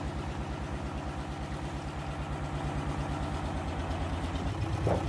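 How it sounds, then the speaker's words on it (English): A vehicle engine idles close by with a steady low, regular pulsing throb that holds for the whole stretch, swelling slightly near the end. "Can you turn the engine off"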